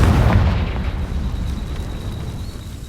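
In the video game Hogwarts Legacy, a Confringo blasting spell explodes with a loud, deep, roaring rumble that fills the moment and slowly trails off, with no voices.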